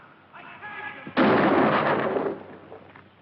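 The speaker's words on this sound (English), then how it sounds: "Some posse man shooting a guy with his hands up." A single loud gunshot from a western film, with a posse man firing on a man standing with his hands up, bursts out sharply after a moment of quiet and rings briefly before fading, with no voices over it.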